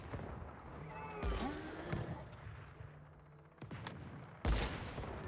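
Gunfire from a player's weapon in the video game Once Human during a solo world boss fight: a few sharp, loud shots stand out at irregular intervals over a busy game soundscape, with faint voice-like sounds in the background.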